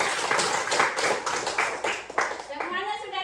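Children in a third-grade elementary classroom clapping their hands together in a burst of rhythmic claps, with voices mixed in and talk starting near the end.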